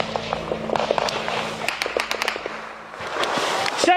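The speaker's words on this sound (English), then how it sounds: "There was gunfire going on, rounds, flying around everywhere." Sharp cracks of gunfire ring out in quick irregular bursts during a firefight in Afghanistan, loud and close, against a noisy background.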